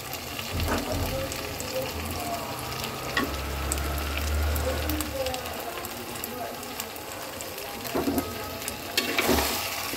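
Chicken and green chillies fry in a pan for a country chicken curry. A soft, steady sizzle runs throughout with faint stirring clinks, and a voice talks over it.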